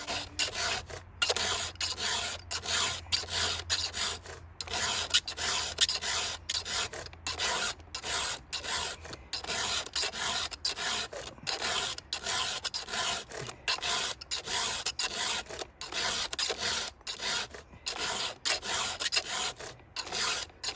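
A full house chainsaw chain is filed by hand, with a loud, close rasping stroke repeated in a steady back-and-forth rhythm over twenty seconds, with no talking.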